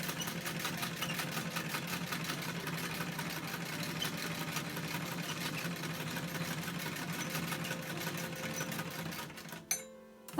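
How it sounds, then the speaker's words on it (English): A 1926 Singer mechanical sewing machine, due for oiling, stitches paper zines with a fast, even clatter, then a little squeak and clunk as it stops near the end. "I love the sound when I'm sewing the zines, the clunking, the squeaking"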